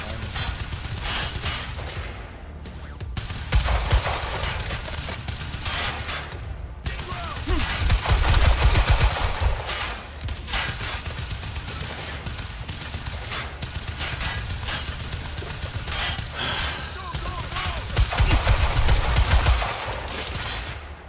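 Sustained gunfire from a shootout in the video game Quantum Break, with dense bursts of shots and booming impacts running loud and continuous throughout, and someone talking occasionally underneath.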